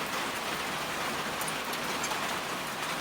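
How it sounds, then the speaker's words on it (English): Steady rain pours down during a thunderstorm, a dense, even hiss of drops hitting surfaces. It stays constant the whole time, with no thunder or voices standing out. "got ourselves some rain, thunderstorm going on"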